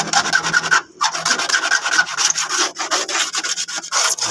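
A tool scrapes paint off a motorcycle surface in repeated close, rasping strokes with a brief pause between passes, loud and continuous with no talking.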